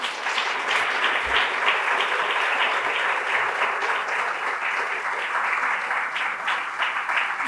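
Applause from an audience at a city planning, development and transportation public meeting, steady sustained clapping from many hands filling the room at moderate loudness, with no talk over it.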